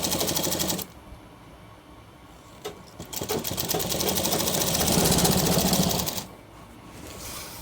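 A sewing machine stitches the double-folded hem of a shirt's back panel, its fast mechanical chatter running steadily, pausing briefly, then resuming and swelling louder before easing off, with no voices.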